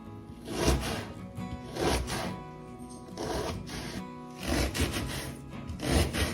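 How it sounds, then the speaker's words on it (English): Knife chopping a medium-sized onion on a wooden cutting board for chili, a run of rhythmic rubbing, scraping cuts in uneven bursts, close and fairly quiet with no talk. "first of all, we're going to cut up an onion"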